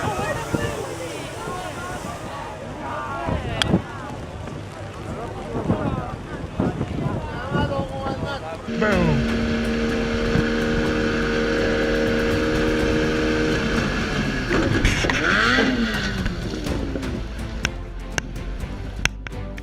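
A boat in a dangerous sea storm, with heavy wind buffeting the microphone and a straining motor. Voices talk and shout over the roar, and a high sustained tone rises in the second half.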